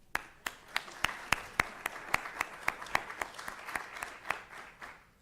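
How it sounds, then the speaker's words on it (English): An audience at a city State of the City address claps for the mayor and council, sparse individual claps ringing out as sharp distinct slaps over a softer smattering of applause. "Let's give a round of applause for our mayor and council."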